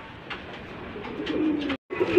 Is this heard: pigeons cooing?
yes